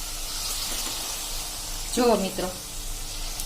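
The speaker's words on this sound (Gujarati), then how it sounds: "પ્રોપર ગરમ થઈ ગયું છે તો આપણે જો આ જે રોટલો વેણો છે ને એ આ રીતે આપણે તળી લેશું" Chorafali dough sizzles in hot oil over a full flame, a constant frying hiss running beneath a man's brief spoken words.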